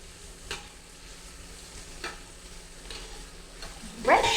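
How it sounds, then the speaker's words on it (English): Onions frying in a pan toward golden brown, a soft steady sizzle with a few faint scrapes of stirring, then a louder crackling burst near the end. "So I'm adding the onions first. And I'm going to let it cook till it's medium golden brown."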